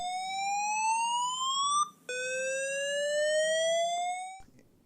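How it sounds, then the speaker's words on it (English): PA system evacuation siren tone, a loud electronic whoop that sweeps steadily upward in pitch, breaks briefly, then rises again in a second long sweep before stopping. "This tone is for evacuation."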